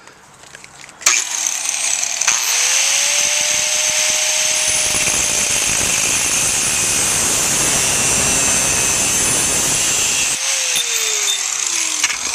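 Excess metal is cut off a homemade motorcycle rack with a loud, continuous, harsh cutting whine that runs steadily for several seconds after a sudden start, then stops abruptly near the end.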